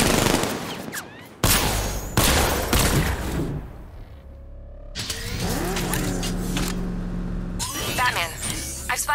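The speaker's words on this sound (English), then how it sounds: "60mm cannon operational." A tank's 60mm cannon fires in Batman: Arkham Knight with loud sharp blasts and rumbling impacts, followed by mechanical whirring and engine noise, a few booming shots spread across the stretch.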